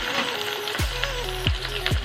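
Okra (bhindi) fries in hot oil with a close, constant sizzle, joined by a few sharp, descending scraping sounds.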